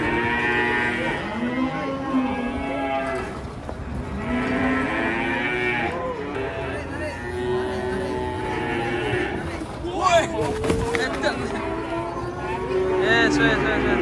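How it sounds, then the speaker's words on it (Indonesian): Agitated cattle moo loudly and repeatedly while being unloaded from a truck, long bellows overlapping with crowd chatter and shouting, plus occasional thumps and scrapes throughout. "Penurunan sapi ngamuk guys."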